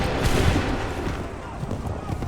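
A loud, dense musket volley crashes out in Assassin's Creed III, a thick roar of overlapping shots with booming low rumble sustained across the whole moment, close and forceful.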